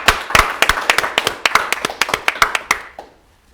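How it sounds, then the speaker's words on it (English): A small number of people clap at a virtual charity gala, sharp, close individual handclaps in an irregular, fairly quick rhythm that stop after about three seconds, leaving near silence. "So give yourself a warm applause."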